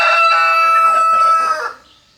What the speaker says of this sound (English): what's wrong with this bird? What's wrong with the rooster?